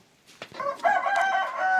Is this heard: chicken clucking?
yes